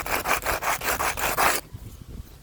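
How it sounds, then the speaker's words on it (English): A metal plate edge scrapes against a concrete barrier in about six quick, rhythmic rasping strokes. It is close and alone, then stops abruptly. "use the curved corner or edge of like a concrete barrier, like what I'm doing here, and that'll clean that up really nicely"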